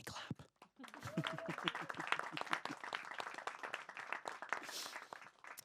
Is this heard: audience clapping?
yes